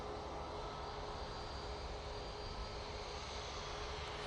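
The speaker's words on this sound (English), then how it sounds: "The A321neo is off to Porto." An Airbus A321neo departing Manchester Airport for Porto produces a faint, even engine roar with a thin steady whine, distant and continuous with no talk.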